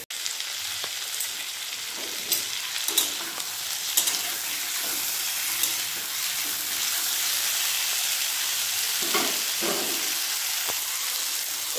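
Eggplant cooking in a covered pan, a steady hiss of sizzling oil throughout with occasional soft clinks and stirring sounds, close and continuous with no talking.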